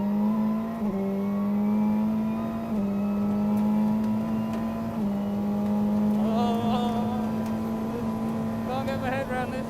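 A McLaren 720S GT3X race car is driven on a fast lap, its engine droning loud and steady from inside the cockpit, with pitch steps at gear changes and a rise under acceleration.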